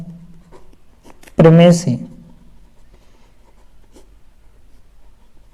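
Pen or chalk writing on a board or paper during a maths lesson: faint, scattered scratchy strokes, briefly interrupted by one short spoken phrase, then quiet writing noises continue.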